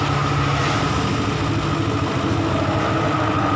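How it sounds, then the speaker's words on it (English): A Yamaha Aerox 155 scooter engine idles steadily and close by, a continuous even mechanical hum with no revving throughout. "Motor's running."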